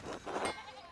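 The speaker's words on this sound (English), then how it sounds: "There's sheep everywhere." Sheep in the video game Pentiment let out a short, wavering bleat of moderate loudness, with no one speaking over it.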